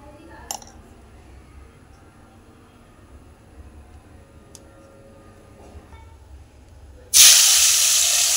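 Salted, turmeric-rubbed fish pieces go into hot oil in a karai, and after a long near-silent stretch a loud, close sizzle suddenly bursts out and keeps hissing steadily to the end.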